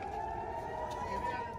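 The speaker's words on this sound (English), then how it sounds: "people huddled near their homes as air raid sirens blared, warning of Palestinian rocket attacks" Air raid sirens wail during a warning of rocket attacks in the Israeli city of Ashkelon, a steady sustained tone heard from a distance under faint background sound.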